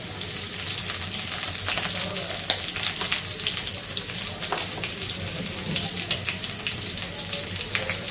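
Onions and green chillies fry in soybean oil for khichuri, giving a constant close crackling sizzle with scattered pops and spits that stays even and loud for the whole stretch.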